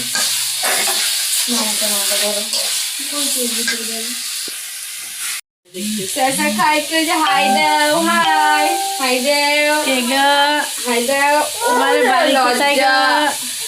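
Leafy greens fry in a pan with a loud, continuous sizzle and hiss, stirred now and then, while people talk over the cooking.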